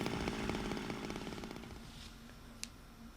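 A chainsaw roars loudly inside a building in the video game Zero Escape: Time Dilemma, its buzzing engine steady at first and then slowly fading, with a sharp click near the end.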